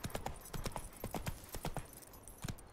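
Horse hooves galloping in The Witcher 3 on PS5, a steady rhythmic clip-clop of many quick hoof strikes, moderately near and fairly soft, with no talking.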